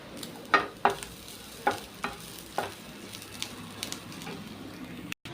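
Grated coconut and bean leaves stir-fried in a pan: a soft sizzling bed under several distinct scraping stirs early on, then quieter crackles, close and fairly faint, with no talking.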